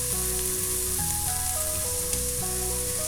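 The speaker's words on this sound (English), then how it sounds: "So add your onion to a medium heat pan with a little oil in it." Onion frying in a little oil in a pan over medium heat gives a continuous hissing sizzle, heard steadily beneath background music with no talking.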